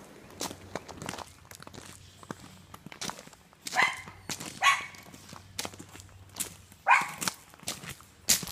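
Several hunting dogs, a mother and her puppy among them, give scattered barks and yips at middle distance, mixed with footsteps and shuffling on the ground, with no talking.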